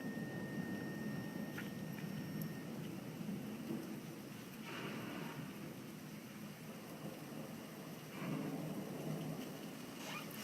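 Steady heavy rain hisses through a thunderstorm at a home in Hoover, Alabama, with several faint distant thunder rumbles rolling under it.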